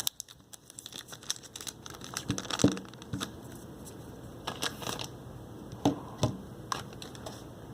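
Crinkly plastic rustling and scraping as a Moto G7 phone slides out of its plastic protective casing, with soft clicks and brief crackles, close and fairly quiet, in irregular bursts.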